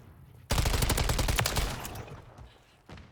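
Taq Eradicator light machine gun firing in Modern Warfare 3, a loud sustained burst of rapid automatic shots lasting about a second and a half, tapering off, then a short second burst near the end.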